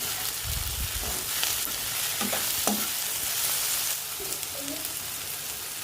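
Biryani masala is mixed in a hot frying pan: a continuous oily sizzle with scraping spoon strokes and soft clunks against the pan, close and fairly loud, with no talking.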